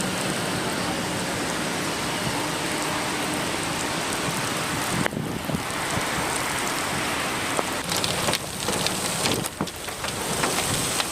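Heavy rain pours down in Hyderabad, a loud continuous hiss of drops on surfaces with occasional louder bursts and crackles, no voices heard.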